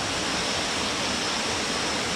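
Ngao Waterfall in Ranong, Thailand roars nearby, a dense, steady rush of falling water filling the space without pause.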